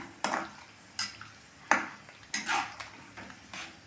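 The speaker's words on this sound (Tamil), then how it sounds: "இப்படி போட்டுட்டு கலரிகிட்டே இருக்கணுங்க. இல்லைன்னா ரவை புருடு ஆயிருங்க" Semolina (rava) being stirred in a pan, a handful of distinct scraping strokes and soft clinks of a spoon against metal, quiet and close with pauses between strokes.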